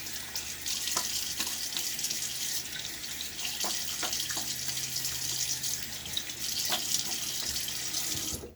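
Tap water runs steadily from a faucet into a sink while a man rinses a Gillette Tech Hybrid razor with a Gillette Nacet blade mid-shave, a continuous close hiss with a few small splashes and knocks.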